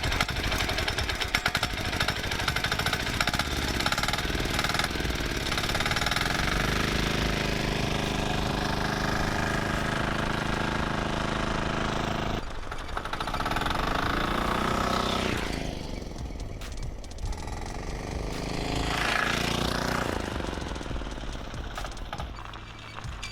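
Diesel-powered stand-up motor scooter engine running hard with a loud, steady rattling drone, pitch rising and falling as it speeds up and slows, close by and without talk.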